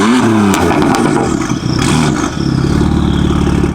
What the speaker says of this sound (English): It's revving faster.